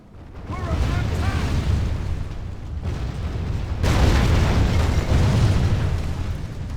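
Missiles strike a gate in the fantasy strategy game Third Age: Divide & Conquer, a rumbling wash of booms and crashes that swells again midway, with someone talking over the top.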